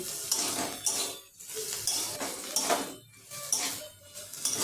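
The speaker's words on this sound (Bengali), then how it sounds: "হলুদ গুঁড়ো দিয়ে সবজিগুলোকে খুব ভালোভাবে নেড়েচেড়ে ভেজে নিচ্ছি" Vegetables dusted with turmeric fry in a pan for sooji upma while a spoon stirs them in repeated clattering, scraping bursts over a low sizzle, close by with short pauses between strokes.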